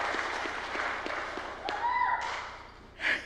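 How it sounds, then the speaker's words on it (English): A church congregation at a volunteer appreciation service claps and cheers, with a brief whoop rising over scattered, moderately quiet applause. "make some noise and cheer"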